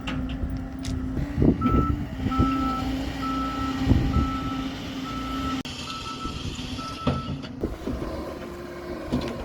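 A concrete truck reverses into a garage build site, its backup alarm beeping in a steady repeating pattern over diesel engine rumble and scattered clanks and knocks.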